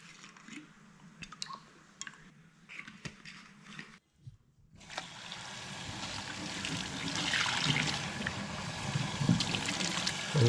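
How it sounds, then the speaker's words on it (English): Cold tap water running over freshly cooked crayfish in a kitchen, a faint trickle at first, then after a short gap a fuller, louder steady gush of water. "I'm just cooling it down really quickly with cold water because otherwise it will keep cooking."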